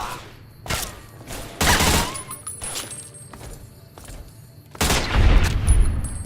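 A gun in the game Fallout: New Vegas fires several loud sharp shots spaced irregularly, with a heavier blast near the end and faint background sounds between.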